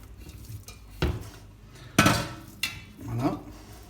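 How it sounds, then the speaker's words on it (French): Veal pieces are set into the bottom of a saucepan for blanquette de veau, giving a few distinct metallic clunks and scrapes against the pan, close and moderately loud, with quiet pauses between them. "Pour commencer, je mets ma viande au fond de ma casserole."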